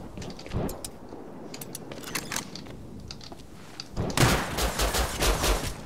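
Rapid bursts of video game gunfire crack out in sharp, closely spaced shots, sparse and quieter at first, then a louder, denser volley near the end.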